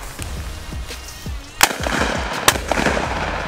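Shotgun loaded with Buckshot Max shells fired in a backyard, two sharp loud blasts roughly a second apart over steady outdoor background noise.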